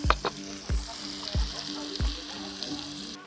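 Garlic sizzles in melted butter in a pan while making shrimp skewers, a continuous hiss broken by several low thuds spaced roughly half a second apart.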